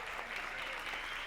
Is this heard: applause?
yes